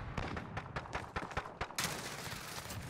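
Gunfire in the video game Call of Duty: Modern Warfare, a quick string of sharp shots followed by a sustained noisy wash, fairly faint and without talk.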